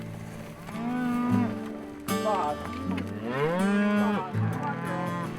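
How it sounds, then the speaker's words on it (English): Cattle on a Kansas farm bellow loudly and close, several long overlapping moos rising and falling one after another, with a brief human exclamation in between. "their bellowing is a telltale sign they're ready to move"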